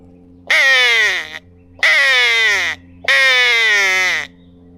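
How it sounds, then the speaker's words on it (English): A hand-blown crow call gives three loud, harsh caws in an even rhythm, each about a second long, close up with a steady low hum underneath. "We'll try a little crow call over here"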